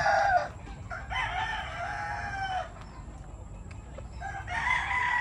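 Gamefowl roosters crowing at a rooster farm, several overlapping crows from nearby and farther birds over a low background murmur.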